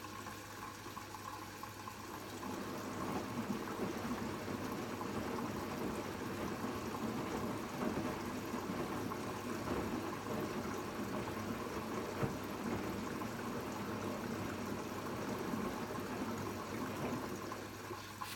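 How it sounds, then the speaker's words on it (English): Bosch Serie 8 washing machine filling with water for a rinse, a steady rushing inflow with a low hum that runs evenly and continuously at moderate volume, without voices. "there's the rinse level coming up now"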